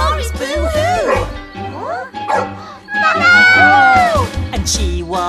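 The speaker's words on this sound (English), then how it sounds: "And Chihua barked" A chihuahua in a children's cartoon story gives a run of high, yappy barks and whines, loud and close, with voices talking around them.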